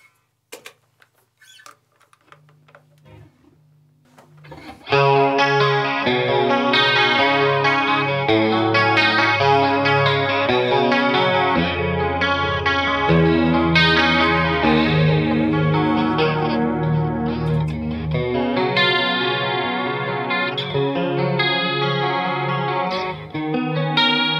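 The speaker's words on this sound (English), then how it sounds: "That's just the chorus ensemble." An electric guitar played through a chorus ensemble effect with a little delay rings out in sustained, shimmering chords and melodic lines, loud and alone after a quiet start.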